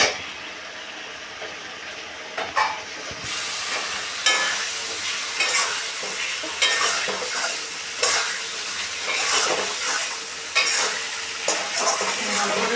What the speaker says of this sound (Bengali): ভালো করে কষিয়ে আলুটা দিয়ে দিব।